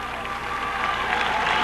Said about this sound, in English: The crowd is going ape wild.